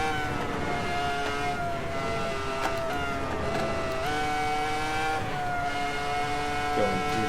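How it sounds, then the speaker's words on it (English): Stock car engine in the Assetto Corsa racing game, a steady droning hum with layered tonal harmonics that shift pitch as revs change, with no voices. "this is the stock sound from Assetto Corsa"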